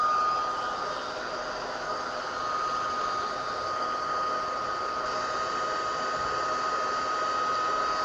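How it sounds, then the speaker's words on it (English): Steady, even whoosh of a heat embossing tool blowing hot air on its highest setting over embossed butterflies, a constant airy roar with a faint whine running unbroken throughout. "we're going to take our heat tool. We're going to put it on the highest setting"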